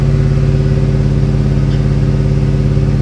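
A Ford F150 fitted with a Roush Interchiller, its engine running loud and close with a steady, heavy rumble under light throttle and no talking.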